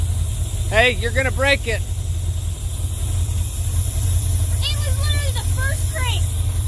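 A 1974 Chevy C10 square-body pickup runs after sitting for fifteen years, fuel poured down its carburetor, its engine droning steadily up close while people talk over it.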